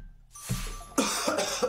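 A person coughs, a short throat sound followed by two or three quick, close coughs in quick succession.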